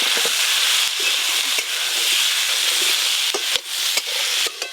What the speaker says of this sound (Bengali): প্রথমে আলু বেগুনগুলো ভালো করে ভেজে নেব।